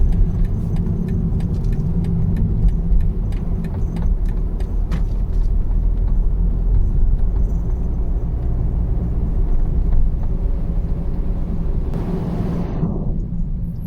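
Inside a BMW 3-series G20 on the move, a steady low road and engine rumble fills the quiet cabin, continuous and even, with no voices.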